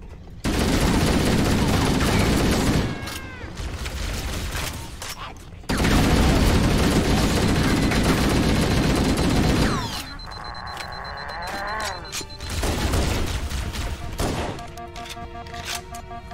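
Dense, sustained bursts of automatic gunfire in Halo: Combat Evolved Anniversary fill long stretches, loud and continuous, broken by short pauses and electronic game sounds.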